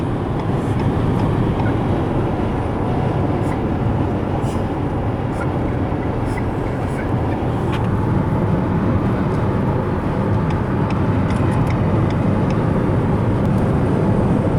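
Steady cabin drone inside a Renault Captur plug-in hybrid cruising on a highway at about 140 km/h with its combustion engine running, a broad constant road and engine rumble with no talking.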